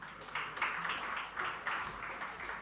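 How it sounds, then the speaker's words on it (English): Applause from an audience at a startup investor demo day as a speaker is welcomed onto the stage, swelling in rough waves and carrying steadily through the whole stretch at moderate loudness. "Ladies and gentlemen, round of applause for Mr."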